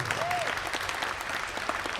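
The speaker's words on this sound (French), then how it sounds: "Applaudissements s'il vous plaît pour Ross." Convention audience at a Toulouse actor panel applauding for Ross Marquand, a steady spread of clapping from a crowd, with a brief tonal sweep near the start and some faint voices mixed in.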